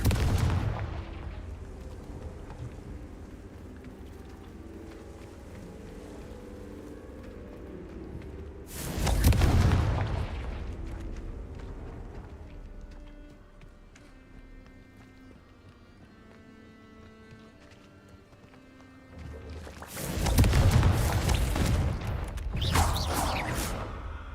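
Confringo fire-blast spells explode in Hogwarts Legacy, two heavy booming bursts about ten seconds apart, each with a rumbling tail, over a quiet ambient background.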